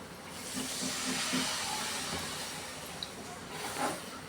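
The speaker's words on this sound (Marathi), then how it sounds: "आता हे पाणी टाकूया" Water poured into hot masala frying in a pan for an egg curry, a steady broad hiss and sizzle close by, rising and falling slightly, with a few faint pops and no talking.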